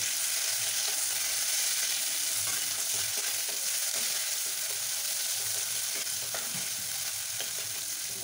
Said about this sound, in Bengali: পেঁয়াজ কুচিগুলোকে দিয়ে দেবো, দিয়ে এবার এটাকে একটু নাড়াচাড়া করবো কিছুক্ষণ।